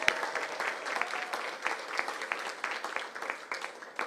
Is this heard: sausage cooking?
no